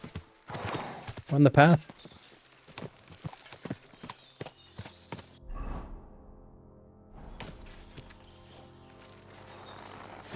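Horse hooves clop along a path in the video game Kingdom Come Deliverance 2, an irregular series of close thuds with a brief whoosh and a snort, while someone speaks briefly over them.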